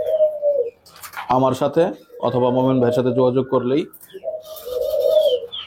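Crested doves coo in soft, low phrases at the start and end while someone speaks loudly over the middle.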